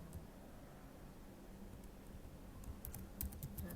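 Keys on a computer keyboard are tapped, including the arrow keys, with faint, soft clicking that grows into a quick cluster of sharper presses toward the end.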